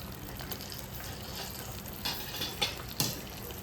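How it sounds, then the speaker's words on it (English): Steady crackling sizzle of curry leaves frying in hot oil, close by, with a few sharper pops and spits toward the end. "You can hear the sizzle."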